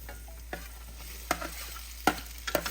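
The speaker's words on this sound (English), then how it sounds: "So mix it well, and before it gets burnt, add the potatoes." Potatoes stirred into a clove-heavy dabeli masala in a hot pan: a few sharp spatula scrapes at uneven intervals over a soft, steady sizzle, close by with no talking.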